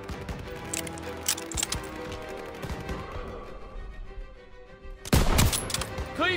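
Gunfire rings out in a World War II Call of Duty campaign battle, scattered shots and bursts amid combat noise, ending in a sharp loud blast, with a voice speaking briefly.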